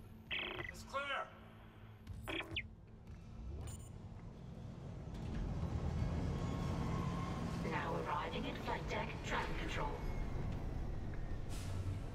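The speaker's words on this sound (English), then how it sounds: "Now we can call the tram" A tram arriving in the video game Dead Space Remake, a broad rumbling mechanical rush that swells from about six seconds and holds steady, with metallic screeches and clanks over it, after speech and game sounds at the start.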